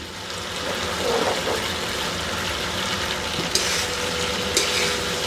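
Pumpkin pieces tossed with white sesame seeds and sauce in a pan over lowered heat, a dense, constant frying hiss with soft stirring scrapes and a couple of light metallic taps, close-up and without speech.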